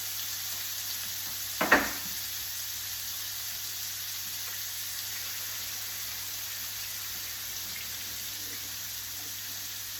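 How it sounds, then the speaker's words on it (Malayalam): Chicken pieces for a dry chicken fry sizzle softly in a pan as they are stirred, a faint steady hiss with one brief louder scrape near the start. "ചിക്കൻ ഇട്ടിട്ട് ജസ്റ്റ് ഇതിനെ ഒന്ന് ഇളക്കി കൊടുക്കുക"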